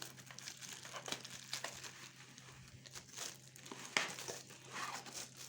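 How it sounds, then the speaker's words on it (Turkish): Plastic bag crinkling and rustling while unpacking a Kiwi automatic salt and pepper mill, close and fairly quiet, continuing in irregular bursts with a sharper crackle near the end. "Şöyle bir poşetin içerisinde çıkıyor. Hemen poşetini de çıkarıyorum."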